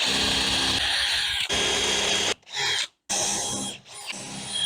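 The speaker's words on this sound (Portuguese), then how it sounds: "apertar com a broca, para você fazer guias aqui, para não escapar a tua broca" A power drill bores guide holes while a Katakana-model chair is being built, whining loud and steady for about two seconds before breaking into a few short, separate bursts with brief silences between.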